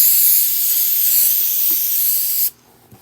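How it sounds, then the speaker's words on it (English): Aerosol sealant sprayed over a diamond painting gives a steady, close, hissing spray for about two and a half seconds before stopping abruptly into near silence. "Supposed to keep it 8 to 12 inches above where you're spraying."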